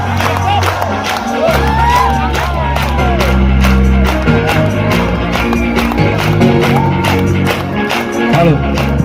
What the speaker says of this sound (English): Hands up, clap.